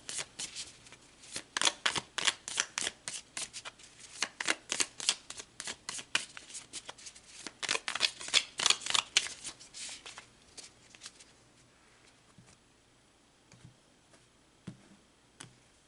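Tarot cards being shuffled by hand, a rapid series of crisp riffling flutters and slaps close up for about ten seconds, then tapering to a few soft taps and near silence.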